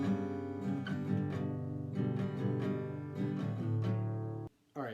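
Acoustic guitar strumming the chord pattern of "Affection" by Scruffpuppie, steady up-down strokes ringing out for several seconds and then stopping abruptly with a brief pause before a final strum.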